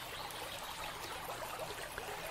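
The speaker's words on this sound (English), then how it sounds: "You can hear the water running over the rocks, just trickling." Water trickling over rocks in a woodland creek, a soft continuous babble with small splashes, faint and alone.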